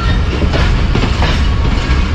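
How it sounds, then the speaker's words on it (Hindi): The 28 Down Shalimar Express pulls out of Rahim Yar Khan railway station, a loud, close, continuous rumble of rolling wheels and rattling carriages with faint clacking over the rails. "28 डाउन शालीमार एक्सप्रेस रहीम यार खान रेलवे स्टेशन को अब अलविदा कह रही है"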